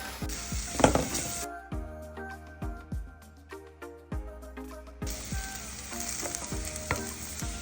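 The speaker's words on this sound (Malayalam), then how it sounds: "അടച്ച് വെക്കാതെ തന്നെ തുറന്ന് വെച്ചുകൊണ്ട് തന്നെ ഇളക്കി കൊടുക്കുക" Beetroot pachadi being stirred in an open pan: a bright frying sizzle with repeated scraping and knocking strokes of a spoon against the pan, the sizzle briefly dropping away mid-clip before returning.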